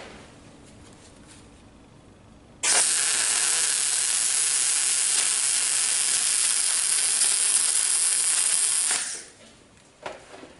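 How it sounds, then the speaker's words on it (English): An overhead MIG weld runs on a butt joint with backing, a steady loud crackling hiss that starts abruptly, holds evenly for about six seconds with slight spatter, then cuts off, with quiet shop noise before and after. "Although that overhead weld was slightly splattery and could have done with a little bit more positive on the arc length"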